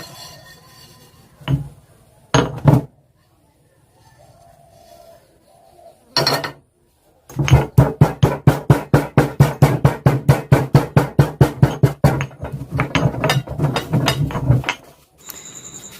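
A pestle pounds ajwain and cloves in a mortar: a few isolated knocks, then a fast, steady run of sharp, close thuds, about four per second, continuing for several seconds.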